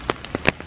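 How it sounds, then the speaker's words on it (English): Rain falling during a hurricane, heard as a few scattered patters and drops on a surface over a quiet steady wash, with brief louder bursts across the short stretch. "I don't like when it's raining"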